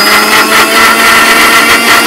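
A kitchen mixer grinder blends a red herbal paste made with lime, producing a loud, steady, high-pitched motor whir that holds constant from start to finish with no speech.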